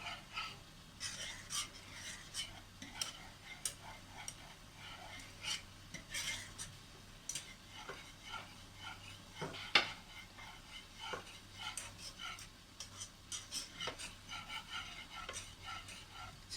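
A spoon scrapes and knocks softly against a pot as cardamom powder is stirred into thickening Pesaha milk, with quiet, irregular clinks over a low steady hum.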